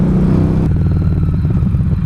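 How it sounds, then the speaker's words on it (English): A Honda CBR motorcycle rides close by, its loud steady engine drone dropping in pitch partway through as it passes with a rough, throbbing rumble. "Ooh, what is that? What is that? CBR."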